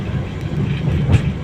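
An MRT commuter train rumbles past in a brief, low, steady burst heard from the roadside amid city traffic.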